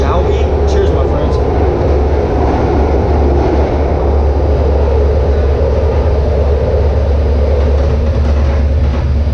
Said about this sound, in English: I'm just taking the train to YODIE land right now